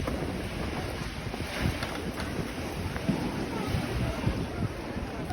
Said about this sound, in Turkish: Arkanda da dalgalar biliyor musun? Nasıl vuruyor bu tarafa doğru?